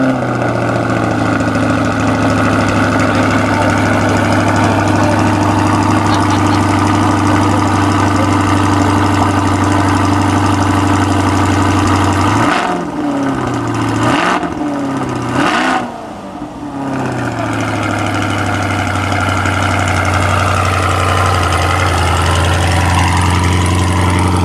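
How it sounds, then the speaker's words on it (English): Chevrolet C8 Corvette, 2020, exhaust after a cold start: a loud, steady idle drone, briefly interrupted midway by a couple of short blips or dips in the engine note before settling back into an even idle. "Hopefully here we'll hear a startup of the exhaust, a little cold start."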